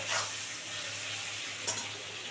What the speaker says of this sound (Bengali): 1 মিনিট ভেজে নেবো চিংড়ি মাছগুলো